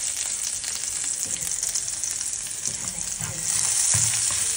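Garlic frying in a hot pan for a chicken and bok choy stir fry, a steady close broadband sizzle throughout that grows louder near the end, with no talking.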